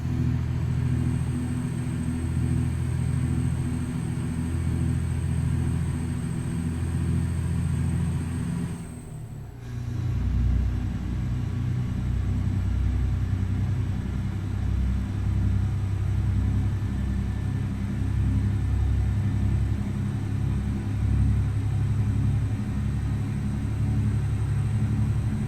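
A Freightliner FLD truck engine in American Truck Simulator pulls hard, a deep sustained droning rumble that briefly dips around a gear change then climbs again, steady and loud with no talking.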